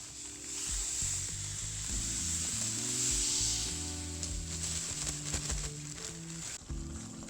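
500 grams of semolina roasts over a medium flame in 300 grams of hot ghee for a ghughra filling, giving a steady airy hiss beneath louder melodic background music.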